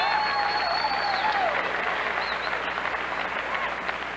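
A large crowd at a 1997 professional bowling tournament in the Von Braun Center arena cheers and applauds, sustained loud clapping with a whistle, fading slightly, with an announcer talking over it.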